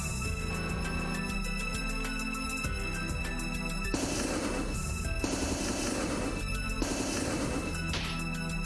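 Alien weapon fire in the Marathon video game: rapid repeating electronic shots in several bursts, alongside a steady ringing tone and dense game sound, with no talk.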